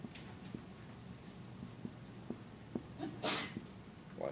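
A single short sneeze sounds in a classroom after faint, scattered small knocks and taps.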